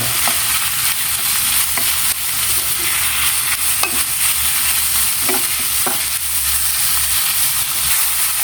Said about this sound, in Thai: พอพริกกระเทียมเราคั่วหอมดีแล้ว ใส่หมูลงไปค่ะ ใส่หมูลงไปผัดเลย